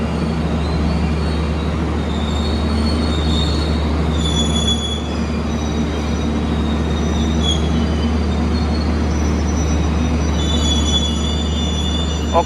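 A passenger train hauled by diesel locomotive 9202 rumbles continuously nearby, its wheels squealing in high, drawn-out tones on the rails as it rolls slowly into Sidoarjo station, Indonesia.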